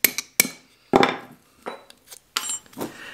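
A small punch ground to a chisel bevel is tapped with a hammer to split the handle scales off a Buck 110 folding knife: sharp metallic knocks, about six spaced strikes with brief ringing decays, close and alone.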